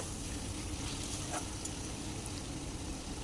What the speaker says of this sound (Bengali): জল দিয়ে ভালোভাবে কষিয়ে নেব চিকেনগুলোকে